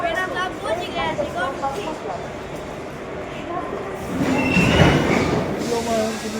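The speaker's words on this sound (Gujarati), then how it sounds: "આ આપણી ટ્રેન છે." A passenger train at Viramgam near Ahmedabad rumbling past with squealing wheels, the noise swelling louder toward the end, with people talking nearby.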